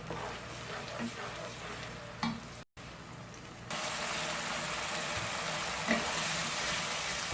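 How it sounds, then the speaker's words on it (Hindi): Chicken keema simmering in tomato gravy in a pan, with a steady sizzle and frying crackle under stirring scrapes; after a brief gap the sizzle returns louder and continues without talk. "और अब उस वक्त तक इसको पकाते रहना है जब तक ये टमाटर का जो पानी है, ग्रेवी है, ये खुश्क ना हो जाए।"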